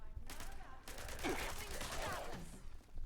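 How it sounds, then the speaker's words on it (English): Rapid bursts of gunfire crackle through a Fallout 76 firefight, dense overlapping shots filling the clip over game ambience, fairly close and continuous with no clear pauses. "So is she gonna keep shooting me like she did last time?"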